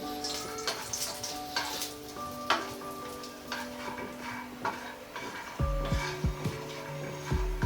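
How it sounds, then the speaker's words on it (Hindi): Half a cup of makhana, fox nuts, frying in a pan of oil, with a quiet steady sizzle, light ticking and rattling as the nuts are stirred, and a louder stretch of clatter toward the end. "हाफ कप मखाने हैं। इनको भी हम फ्राई कर लेंगे।"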